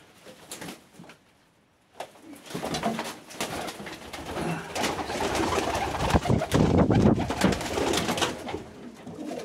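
Pigeons coo steadily inside a breeding loft, with soft rolling calls layered throughout and a few faint wing flaps, getting fuller and louder toward the end, with no talking.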